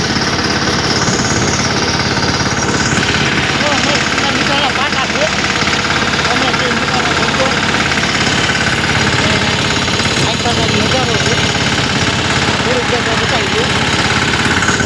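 A tractor engine runs loud, steady and close with a rough, thumping idle, vibrating without pause the whole time.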